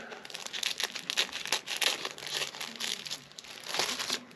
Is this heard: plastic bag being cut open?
yes